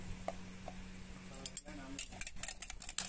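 A spoon beats egg with salt and beans in a cup, making quick, light clinks and taps against its sides that grow busier toward the end, with a soft voice in the background.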